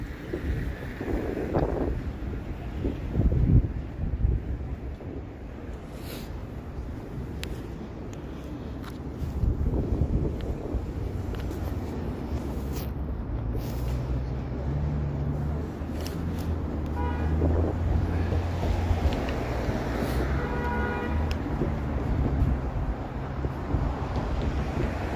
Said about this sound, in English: the wind is horrendous